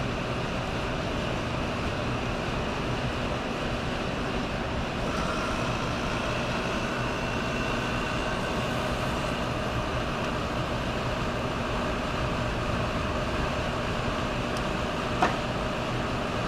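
Car air conditioning vacuum pump running while disconnected from the system, a loud steady mechanical hum and drone held throughout with a brief click near the end.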